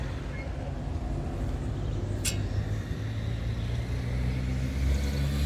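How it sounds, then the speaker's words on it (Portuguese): Car in street traffic accelerating instead of braking, engine rising under a steady traffic rumble, with a brief sharp squeak midway and a low hum throughout. "o carro, em vez de frear, ele acelerou"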